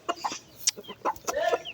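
Desi chickens clucking as they come inside to be fed, several short, fairly close clucks and squawks in an uneven burst over quiet background.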